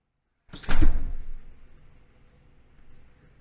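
A door swung shut with a single solid thump at close range, followed by a short fading rattle and a faint later knock in an otherwise quiet home.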